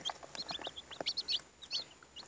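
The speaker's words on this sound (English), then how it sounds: "But I've got 10 beautiful chickens," Chickens cluck in short, irregular bursts, several birds nearby on a homestead making soft, choppy calls over a quiet background.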